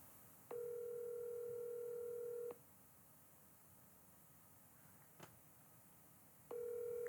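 Telephone ringback tones on an outgoing call, two long steady rings separated by a quiet pause, clean and moderately loud with no talking.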